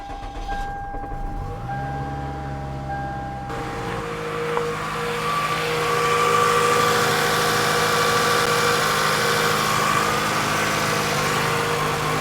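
A rebuilt Toyota Camry engine, 2002-2006 model, cranks over, catches and settles into a steady idle that rises in pitch and loudness as it runs, close and continuous with no talking.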